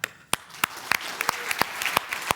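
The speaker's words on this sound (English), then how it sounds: "Give them a hand." Scattered hand claps from a small audience at a RoboCon 2024 Robot Framework Jeopardy session, a handful of distinct loud claps spaced irregularly across a couple of seconds rather than a full ovation.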